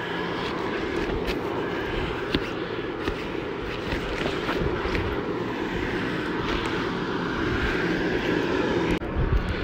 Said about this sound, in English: the fan makes a bit of a grinding noise